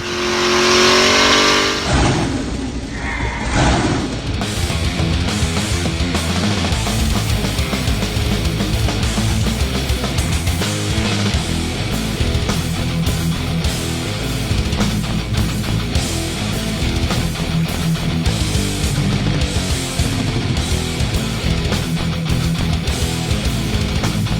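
Holden HZ One Tonner engine cranks, catches and then roars continuously at high revs, a loud, dense, sustained engine sound filling over twenty seconds with no talking.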